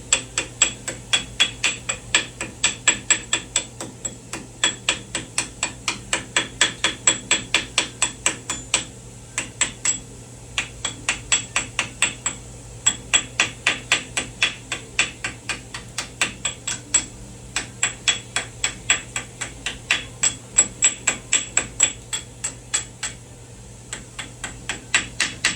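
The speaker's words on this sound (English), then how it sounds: "And you gotta sit here and chip all this stuff off. All that scale off, little by little, with a hammer." Steady hand-hammer blows chipping rust scale off a Jeep TJ steel wheel, sharp metallic taps repeating in quick irregular bursts for the whole stretch, close and prominent over a low constant hum.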